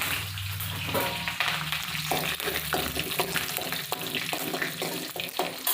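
Mustard seeds and dried red chili with curry leaves sizzle in hot oil for village-style rasam, a steady loud frying hiss marked by small popping crackles, near and without speech.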